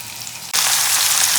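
Shrimp drop into golden-browned onions in a hot frying pan, and a quiet sizzle suddenly jumps to a loud, steady crackling fry.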